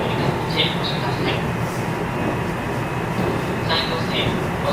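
A JR 227 series train built by Hitachi, car KuMoHa 227-7, runs with a steady loud rolling rumble and rail noise, and brief higher whines rise and fade twice.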